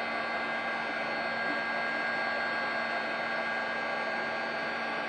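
A heat gun used to emboss stamped images blows a steady, even whir with a slight hum, close and constant throughout, with no talk.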